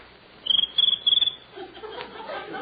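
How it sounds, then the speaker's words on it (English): Cricket sound effect from an old radio comedy show, three quick bursts of shrill rhythmic chirping that fade into quiet background murmur. "That's just a little cricket."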